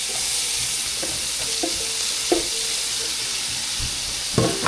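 Meat sizzles steadily in melted butter in a pot for a Mexican albóndigas soup, with a continuous hissing fry, a few sharp clinks and scrapes of a utensil, and a louder burst of popping near the end.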